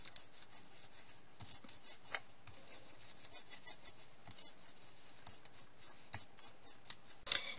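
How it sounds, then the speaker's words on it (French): A paintbrush sweeps excess glitter sand off a handmade card, giving repeated soft scratchy brushing strokes in quick irregular bursts, close up and alone with no talking. "je vais repasser un peu un pinceau pour enlever l'excédent si jamais"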